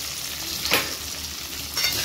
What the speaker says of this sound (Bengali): এবার দেখো আলুগুলোকে আমি ভালো করে একটু ভেজে নেব